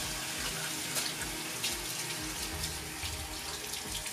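Water runs steadily from a bathroom tap into a sink while someone rinses their face, a continuous close splashing hiss with small fluctuations as hands move through the stream.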